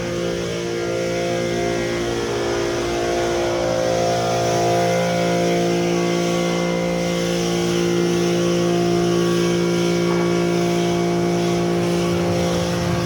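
An ambulance backs into a fire station bay with its engine idling loudly and steadily close by, holding a droning hum throughout with no talk over it.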